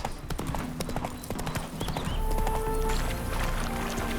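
Horse hooves in The Witcher 3, a quick clip-clop of hoofbeats that starts close and sharp and then gives way to a steadier background with faint tones, with no talk.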